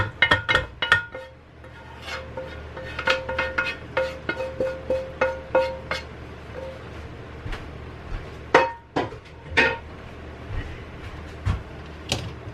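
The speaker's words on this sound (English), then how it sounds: "I'm just going to dump the ground beef in there." Cooked ground beef is dumped into a pressure cooker pot in a home kitchen, producing a run of sharp, hollow metallic knocks and clatters, close and fairly loud, coming in irregular bursts with short pauses.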